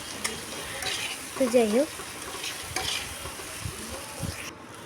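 Masala sautéing and being stirred in a pan for a cauliflower dish, a faint low sizzle with scattered scraping stirs, while someone talks briefly over it.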